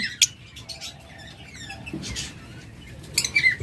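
Budgerigars and lovebirds in cages chirping and twittering, faint high calls and scratchy chatter scattered through a quiet room, with a few sharper bursts near the end.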